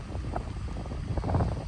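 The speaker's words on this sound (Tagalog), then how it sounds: "Ang lakas kasi ng hangin eh." Strong wind roars steadily during a snowstorm in New Jersey, buffeting the microphone with a low rumble that surges slightly near the end.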